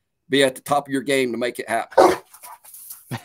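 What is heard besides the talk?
dogs barking while playing tug rope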